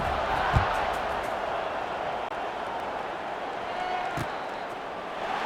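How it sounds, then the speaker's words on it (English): Stadium crowd in the College Football 26 video game keeps up a steady, dense roar through the stretch, broad and unbroken, with a couple of faint thumps rising out of the wash. "this crowd is buzzing after that last score"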